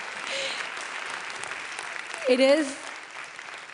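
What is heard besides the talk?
audience applause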